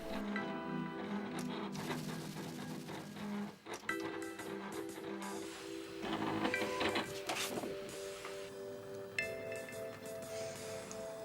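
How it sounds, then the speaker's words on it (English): Vinyl cutter cutting out lettering, its carriage whirring and stepping in bursts of motor tones that change pitch as the blade moves, steady and close with short pauses and no voices. "Using the vinyl cutter, I cut out the letters of each day of the week."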